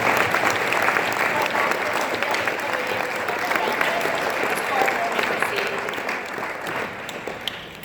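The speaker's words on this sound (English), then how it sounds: "start by giving yourselves a round of applause" A large audience applauds steadily, a dense wash of clapping that holds for several seconds and fades only slightly toward the end.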